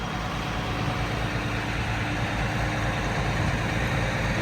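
A tractor engine runs steadily with its power take-off engaged on a fertilizer spreader loaded with P&K and manure, a constant low, dense rumble held at a near, even level throughout.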